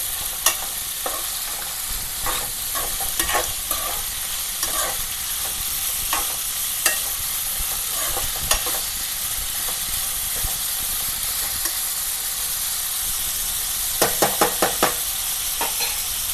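Broad bean seeds fry in oil with a continuous loud sizzle while a spoon stirs them back and forth, scraping and clicking against the pan at irregular intervals, close up with no talking.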